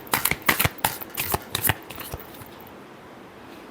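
Tarot cards are shuffled close up in a quick run of crisp riffling bursts, each a sharp flutter of card edges. The bursts thin out and stop, leaving quiet room tone for the final second or so.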